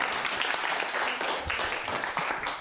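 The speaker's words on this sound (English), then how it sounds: "Round of applause for that." Audience applause at a community bus forum in West Yorkshire, a dense, steady patter of many hands clapping together for several seconds.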